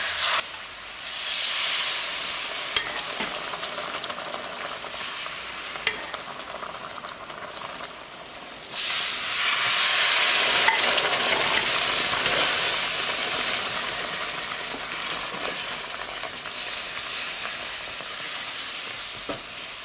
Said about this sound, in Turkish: Şimdi şerbetimi yavaş yavaş ilave edeceğim.